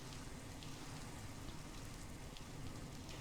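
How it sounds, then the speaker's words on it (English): Steady rainfall in a video game beach biome, a dense, even hiss with soft patter throughout, moderately loud and unchanging, with no voices. "I swear to God, it's always raining every single time."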